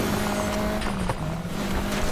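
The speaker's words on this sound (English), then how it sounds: "Spinning the tires in second gear for a follow." NFS Heat video game car spinning its tires in second gear: a steady engine drone with a sustained tone under a rough tire-scrub hiss, close and fairly loud.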